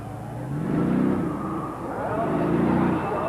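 A monster truck creeps slowly across a row of six cars at a competition, its engine droning and swelling in two long revving surges with rumbling crunches underneath, loud and close throughout.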